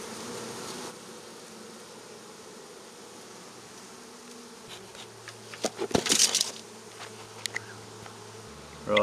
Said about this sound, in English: Even though they are Italian carni hybrids, sometimes they can be still very hard to locate. Geez, they're big bees.